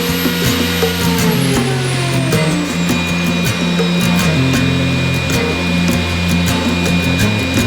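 A power tool with a mounted bit cuts into a scrap piece of wood in a workshop, giving a steady, loud whirring drone with continuous cutting noise throughout and no talk.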